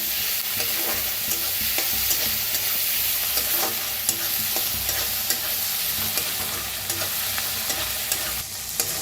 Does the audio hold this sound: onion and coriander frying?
yes